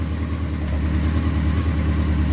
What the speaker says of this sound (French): c'est quand même plus pratique quand le moteur tourne pour pouvoir passer les rapports